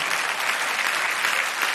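Audience applause at a live blues show, a dense, steady wash of many hands clapping throughout.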